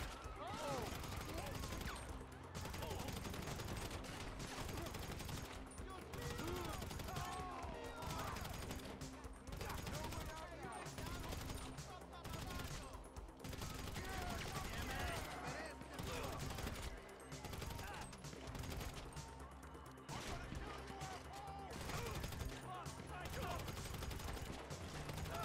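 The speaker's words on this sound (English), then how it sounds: "Alright, so I'm just gonna keep shooting these guys." Bursts of gunfire from a shootout on a pier in GTA V Online crackle repeatedly through the stretch, fairly faint and blended with game noise, with short gaps between volleys.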